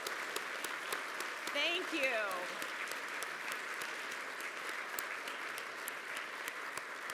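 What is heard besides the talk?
audience applause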